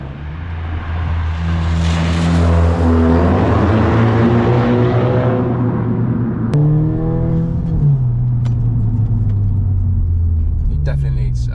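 Audi S3 2.0 TFSI with an unrestricted cat-back exhaust gives a loud, steady low drone while driving, the note rising and falling with engine speed, with a brief shift in pitch partway through.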